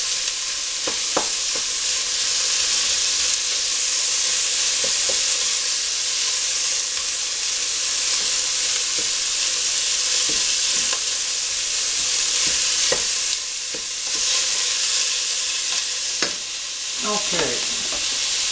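Partially frozen meat frying in a pan for a pasta pie, a steady broadband sizzle running throughout with occasional stirring clicks and scrapes, close and fairly loud, no talking.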